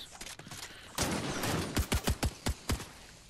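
Scattered gunfire in a video game squad match, a steady distant rattle followed by a string of sharp, separate shots at close range.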